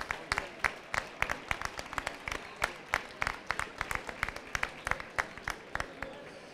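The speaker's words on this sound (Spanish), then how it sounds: "un aplauso al sector agroganadero por lo que ha hecho por todos nosotros" Applause from the audience at an agro-livestock and agri-food fair closing ceremony, fairly faint, dense, rapid clapping that runs steadily throughout with no talk over it.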